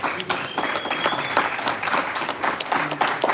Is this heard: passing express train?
no